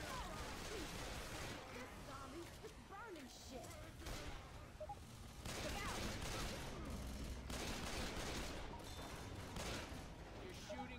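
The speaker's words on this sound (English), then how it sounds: "You're shooting me again." Rapid video game gunfire crackles in dense, continuous bursts throughout, with voices talking over the shooting.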